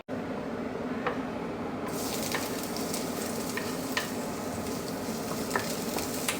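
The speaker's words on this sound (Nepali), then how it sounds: "लसुनलाई स्टिर फ्राई गर्ने" Garlic stir-frying in a pan, a loud continuous close sizzle that swells brighter after a couple of seconds, with occasional clicks of the utensil against the pan.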